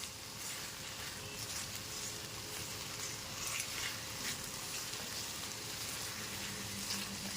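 Lentils and potatoes fry in hot oil with spices as salt is stirred through, giving a steady, close sizzle with soft scraping and patter throughout, no talking.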